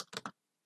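Brief burst of computer keyboard typing while coding HTML, a few quick close key clicks in about a third of a second, then near silence.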